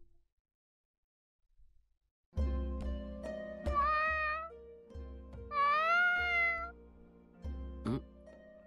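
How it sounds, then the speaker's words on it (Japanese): A cat meows in an anime scene: two drawn-out, rising-and-falling meows close up, then a short final mew, with steady background sound throughout and no talking. "猫"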